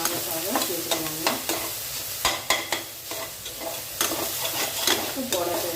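Half-boiled small plantain and onions fried in a pan, with a spatula scraping and stirring in repeated strokes over a steady, close sizzle.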